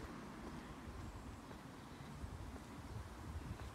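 Wind blowing through trees outdoors in the Netherlands, a steady, faint broadband rush and rustle with no talk.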